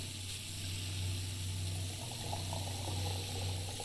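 Water pours into a container in the cooking game Wasteland Cook, a steady gurgling fill over a low constant hum, running unbroken throughout.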